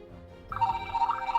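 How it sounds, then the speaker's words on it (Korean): A toy phone's tinny electronic ringtone starts after a moment and keeps going as a steady, bright repeating tone over a low hum. "탁구미 전화 왔어."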